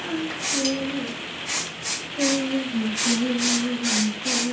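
Short bursts of spray hiss in an irregular series, each a sharp airy blast, over a faint tonal hum in the background.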